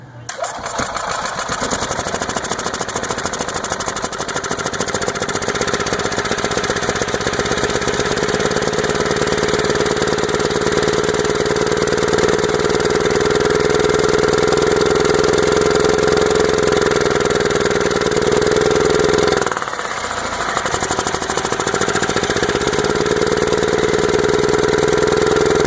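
A Yamaha G2 golf cart engine runs roughly and steadily for about twenty-five seconds, spitting fuel back out of its carburetor. Its loud, uneven idle drones on with a brief dip near the end.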